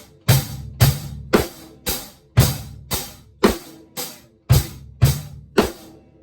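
Rock beat on a drum kit built from hi-hat, snare and bass drum, played with about a dozen evenly spaced strikes in a steady pulse, close and loud with no talking.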